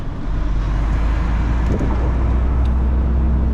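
A car driving through the streets of Lviv, heard from inside as a loud, steady low engine and road rumble with tyre noise, no voices over it.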